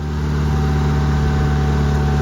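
A small garden tractor engine runs steadily at close range, pulling a Triple K harrow across a yard being leveled, with a constant droning hum and no pauses over a couple of seconds.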